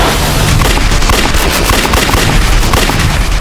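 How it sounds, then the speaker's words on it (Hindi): Sustained loud gunfire from a police shootout in a Hindi TV crime drama, with dense overlapping shots and bursts filling the scene continuously at close range. "Open fire."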